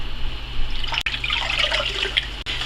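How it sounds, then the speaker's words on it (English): Warm tap water poured into a Dutch oven while cooking quinoa, a steady close splashing and trickling run for about three seconds with no talk. "to my Dutch oven I'm going to add 3 cups of warm tap water"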